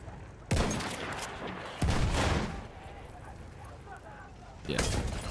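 Bursts of gunfire in the Battlefield 6 video game, three loud heavy volleys with booming tails over a constant battle rumble, with a voice talking at times.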